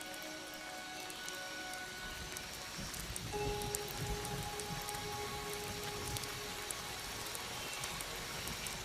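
Steady rain falls on leaves in a natural setting, a dense, even patter of drops continuing throughout at moderate, close-up volume.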